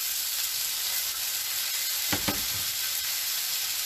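Peppers and onions hit a hot pan, a loud steady hiss with a brief burst of crackle as the vegetables drop in, close up and continuous, no speech.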